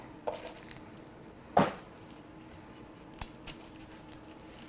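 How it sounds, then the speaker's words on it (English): A knife slices through a medium yellow sweet onion on a board, giving a few sparse, crisp cuts spread over several seconds with quiet pauses between them. "And next I'm going to cut up my onion."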